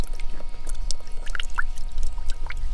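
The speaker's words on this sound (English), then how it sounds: "and then we fill the bucket of water halfway" Water from a kettle and a container pours into a bucket for an outdoor beach shower, a steady close splashing stream with a few brief clinks, and no one talks.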